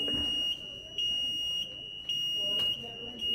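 A home fire alarm sounds a piercing high electronic tone that keeps pulsing in short repeated bursts, loud and close, over a background of indistinct room noise and faint voices.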